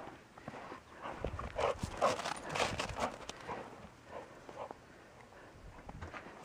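A Bearded Collie plays in snow, with soft crunching and padding footfalls and light panting, fairly faint and nearby, with no voices.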